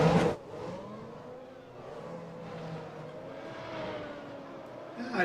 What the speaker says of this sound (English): There you hear the engines get fired up